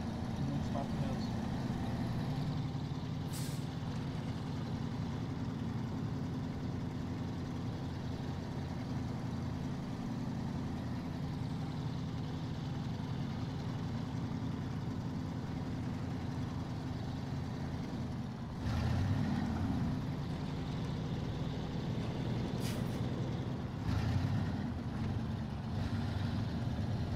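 Within the SnowRunner video game, a truck engine runs with a steady low rumble for the whole stretch, with a few brief knocks and bumps along the way.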